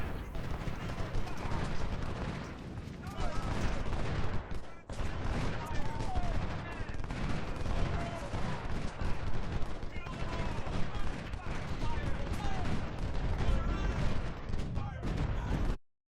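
Continuous dense musket and cannon gunfire fills a Civil War strategy game battle as cavalry comes under fire, overlapping volleys rattling steadily with a brief dip midway.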